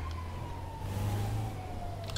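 A faint siren wails in the distance with a slowly falling tone, heard over a low engine rumble.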